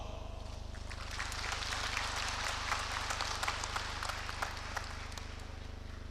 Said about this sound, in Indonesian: Melihat tepuk tangan yang meriah saya agak curiga